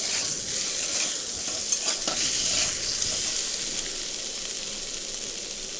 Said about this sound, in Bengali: আলুগুলো অল্প করে ভেজে নিচ্ছি